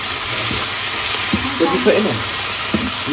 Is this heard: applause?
no